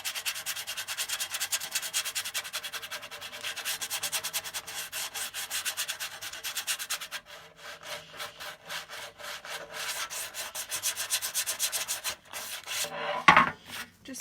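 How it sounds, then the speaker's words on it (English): Metal tray being lightly sanded by hand with sandpaper, a close, steady rhythmic scratching of quick back-and-forth strokes that continues throughout, ending in a brief knock. "I'm just going to take my sandpaper and I'm just going to kind of smooth a little bit,"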